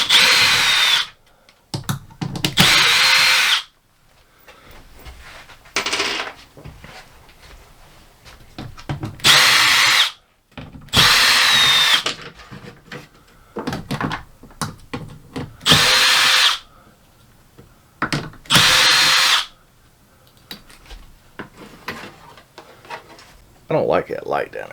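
A power drill backs screws out of an RV ceiling fixture in repeated loud, close bursts of whirring, each a second or two long, separated by pauses with someone talking in between.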